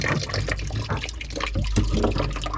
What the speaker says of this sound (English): I'll let that all drain out into the bucket